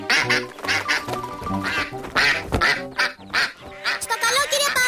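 Cartoon duck quacks repeatedly in a lively rhythm, close and loud, over background music and talking voices in an animated garden scene.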